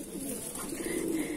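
Cooing of a Madrasi-type male pigeon kept for sale, a steady low throaty warble rolling continuously close by with no talk.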